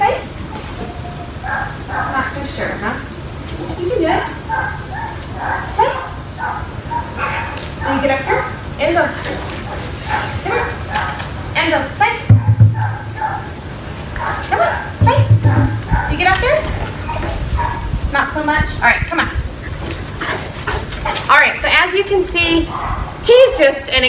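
Excited Cane Corso puppy yipping, barking and whimpering in bursts close by, mixed with ongoing talk from a person handling it during a training session.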